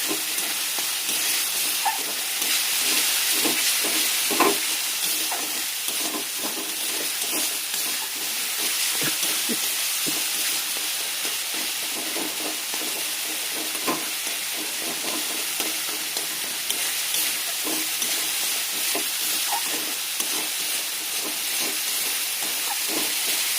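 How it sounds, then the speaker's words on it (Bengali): Garam masala spices sauté in a pan for a potato and paneer dish, a loud continuous close hiss and crackle with scattered spoon scrapes and stirring knocks throughout, no voices. "তারপরে গরম মশলা দিয়ে দিলাম, মশলাটা এবার কষে নেব।"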